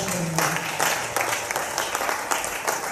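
A church congregation at a Pentecost retreat claps and applauds together, a dense, continuous patter of hands filling the room with a few louder bursts.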